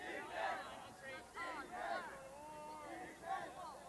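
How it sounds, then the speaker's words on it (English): A sideline crowd at a junior varsity boys lacrosse game cheers and shouts in bursts to rally the defense. The loud, rising and falling yells are heard over a background of crowd noise. "Chargers sideline cheering defense."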